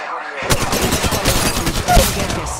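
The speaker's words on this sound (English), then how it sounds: "Firing." Rapid automatic gunfire from the mobile video game Apex Legends Mobile, played in a ranked match. A dense, loud burst of shots starts suddenly and fires continuously for about two seconds, close up.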